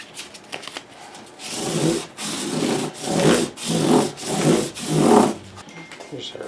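Wood being hand-sanded with 600 grit sandpaper during the finishing of a Gb tuning instrument: five steady back-and-forth rasping strokes, close and fairly loud, after a short quiet start.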